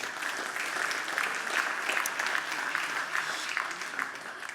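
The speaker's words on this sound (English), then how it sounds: "give them a round of applause" Audience applause at an automotive supplier innovation awards ceremony, a sustained wash of many hands clapping steadily throughout, heard alone.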